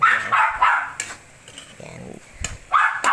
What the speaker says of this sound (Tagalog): pasensya na kayo sa aking aso. Maingay.